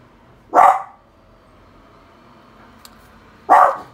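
Two loud, close dog barks, each short and sharp, spaced about three seconds apart with quiet between them.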